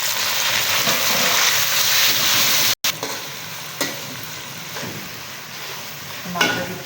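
Tomatoes added to browned onions in a pan for Kabuli pulao, a loud steady sizzle and crackle of frying, briefly cut off, then continuing with a few stirring scrapes.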